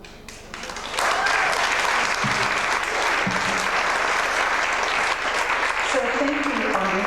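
An audience applauds after a poem reading at a poetry day event: sustained, dense clapping that swells quickly and stays loud and even, with a few voices faintly mixed in.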